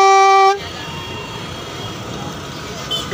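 A Honda Accord horn with a deep, truck-like tone gives one loud, steady blast lasting about half a second, then cuts off to leave a noisy roadside background.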